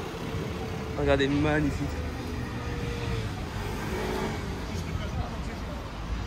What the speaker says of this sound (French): on commence par une magnifique Ferrari